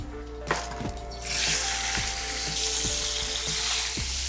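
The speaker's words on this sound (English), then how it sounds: "Want to get a nice saute on those livers and kidneys." Chicken livers and kidneys sizzling in a hot pan for a forest-forage dinner, a steady loud fry hiss that swells after the first second, with faint regular taps from the pan or utensil throughout.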